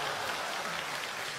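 Audience applause at a comedy crosstalk show: a steady, dense wash of clapping from a crowd filling the whole moment, with no distinct voices.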